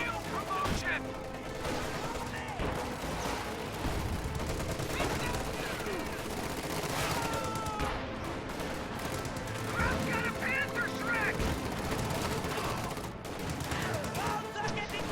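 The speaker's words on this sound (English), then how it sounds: "MG34 firing on these rifles, and off they go." MG34 machine gun firing in a Company of Heroes battle, with dense, continuous bursts of gunfire layered with other combat noise throughout.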